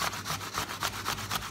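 Cheese rubbed against a hand grater in steady back-and-forth strokes, about six rasping passes in quick even rhythm, close and clear with no talking.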